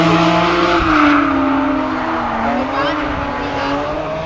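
BMW Z3 drift car fitted with a Toyota Supra engine, sliding through a drift show at the Nürburgring 24-hour race, loud sustained engine wail with shifting pitch and tire squeal throughout.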